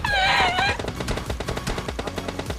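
Gunfire crackles in PUBG Lite gameplay. After a brief tonal sound, rapid bursts of shots follow one another in a dense, uneven stream.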